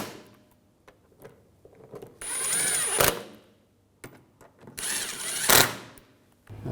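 A power tool drives bolts into a Volkswagen Jetta radiator fan assembly in two short bursts of high whirring, each ending in a sharp tightening rattle, close up, with quiet clicks and handling noise between them.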